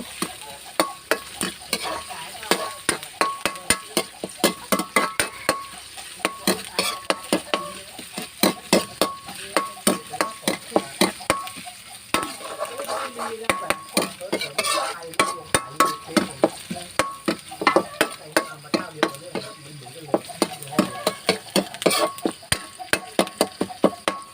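Shrimp paste is stir-fried in a pan for long beans with shrimp paste, a dense run of rapid, loud spatula scrapes and clacks over a steady sizzle.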